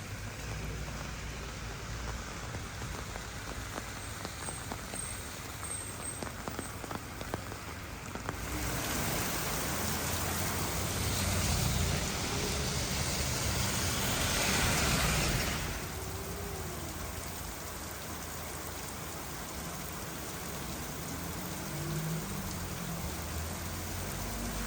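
Steady rain in Cebu, Philippines, hissing down on surfaces, with a heavier stretch in the middle before easing back to a softer patter.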